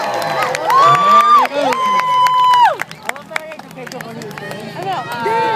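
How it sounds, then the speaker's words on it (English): A crowd at the Markham Fair in 2012 cheers and claps loudly after a stunt show act, with whoops and shouts over a dense, steady roar of applause and a voice calling out near the start. "let's send him off with a nice round of applause"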